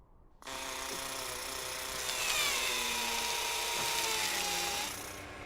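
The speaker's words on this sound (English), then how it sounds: "The drill on the arm allows us to grab some of that rock" The Mars Curiosity rover's arm drill starts abruptly and grinds steadily into rock with a high whining tone, its pitch sliding downward before it winds down near the end.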